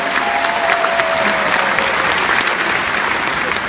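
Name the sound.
audience applause for their parents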